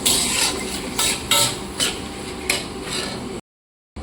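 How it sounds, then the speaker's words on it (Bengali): Masala frying in a pan for dhaba-style chicken masala, stirred with a utensil in repeated scraping strokes roughly every half second over a steady sizzle, close and fairly loud, ending abruptly in silence. "এবার এটাকে খুব সুন্দর করে লাল লাল করে ভেজে নেব।"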